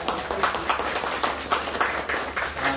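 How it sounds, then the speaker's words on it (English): Audience of women at a Muslim Women Council gathering in Bradford clapping together in a steady, fairly close round of applause for about three seconds, with a little talk faintly underneath. "Another round of applause, ladies."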